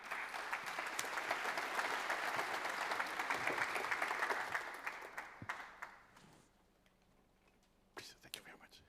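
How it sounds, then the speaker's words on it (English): Audience applause for leaders after their takeaway messages at a UN food systems summit session, a steady broad clapping that swells for about five seconds, then fades out, with a brief spatter of claps near the end. "give a big applause to our leaders for their takeaway messages"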